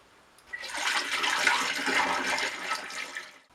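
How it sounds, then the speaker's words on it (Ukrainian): Fermented apple mash is poured steadily into a plastic bottle, a close, continuous gush of liquid lasting about three seconds with no voices. "А відсіжену брагу заливаю у пластиковий бутиль для подальшого освітлення."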